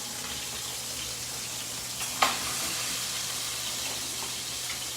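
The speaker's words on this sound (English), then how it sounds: "We throw it in a hot pan with some butter." Garlic sizzles steadily in a hot pan of butter, a continuous bright frying hiss with one sharp clink or stir near the middle, close and alone without talk.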